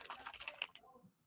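Rapid typing on a computer keyboard, a quick run of close, crisp key clicks lasting under a second before stopping, quiet overall.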